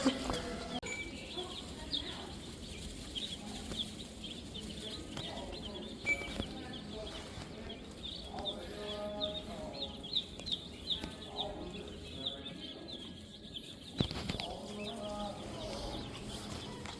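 Chicks and ducklings in a farm supply store chirp faintly in scattered bursts against indoor store hum and occasional thumps.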